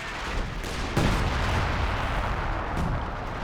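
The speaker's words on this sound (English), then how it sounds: "mortars." Mortar and artillery fire from the real-time strategy game Company of Heroes 2, heard as a dense run of booming blasts and thuds over a rumbling battlefield, with a sharp impact near one second.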